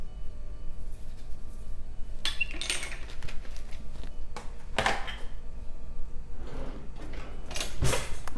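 Penne caprese pasta salad with basil and salt gets tossed in a bowl, with scattered clinks and scrapes of a utensil against the dish, a few sharper knocks among softer rustling.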